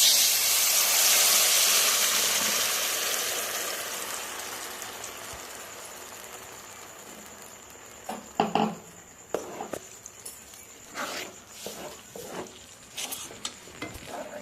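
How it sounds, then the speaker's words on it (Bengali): Lentil batter poured into hot oil, an intense hiss that bursts loud at first and gradually fades to a softer sizzle, followed by scattered scraping and clattering of stirring in the pan. "তেলটা গরম হয়ে গেছে ডালটা আমি ঢেলে দেবো"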